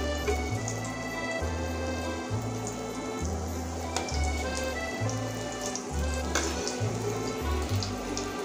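Egg potato chops frying in hot oil, a steady crackling sizzle heard close and alone, with a rhythmic low thumping running beneath it throughout.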